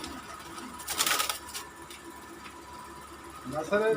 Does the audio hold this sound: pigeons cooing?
yes